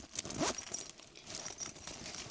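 A quick zipper pull rasps up close on a pet bag pocket, one short sharp zip followed by faint rustling of fabric.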